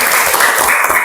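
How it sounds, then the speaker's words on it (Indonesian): A classroom of students applauds the groups after a lesson, a short burst of loud, steady clapping close by. "Oke, tepuk tangan."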